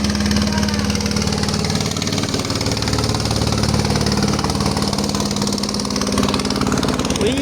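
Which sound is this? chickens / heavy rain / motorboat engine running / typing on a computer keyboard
motorboat engine running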